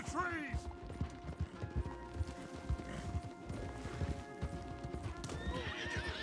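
Horses clip-clop along a path in the Red Dead Redemption 2 video game, with a steady run of close hoof beats, a whinny near the start and another near the end, and some mechanical clicking in the background.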